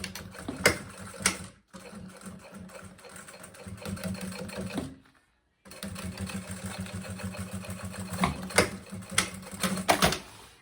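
Sewing machine stitching the lining of a maternity bag, running in loud steady bursts with a short pause midway and a longer gap near the middle, close and mechanical with a quick rhythmic whir.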